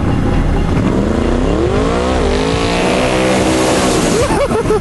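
Vauxhall Victor with a 2,100 bhp shed-built engine on road-legal tyres, screaming loudly at high revs with rising and falling engine pitch and continuous tyre squeal, close and dominant throughout.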